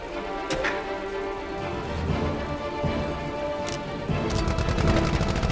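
Strategy video game battle in Earth vs Mars, with rapid ticking and crackling gunfire-like bursts, a few sharper shots and a denser clatter near the end over a steady game background, no talking.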